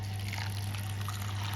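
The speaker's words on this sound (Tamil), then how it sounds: "இப்போ வந்து இது முங்குற அளவுக்கு தண்ணி வச்சுக்கலாம்." Water poured over soaked sago pearls gives a soft, steady trickle over a low background hum, faint and brief.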